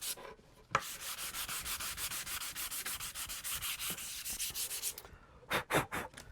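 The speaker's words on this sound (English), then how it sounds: "we want equal sanding all the way around" Rapid back-and-forth scraping of sandpaper on PVC pipe, steady and continuous strokes after a brief pause, then a few separate louder rubs near the end.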